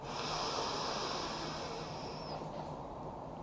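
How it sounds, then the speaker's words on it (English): A slow, steady inhale during a seated fascia breath stretch, a soft airy hiss lasting several seconds and gently fading, close and quiet with no talking. "Breathing in."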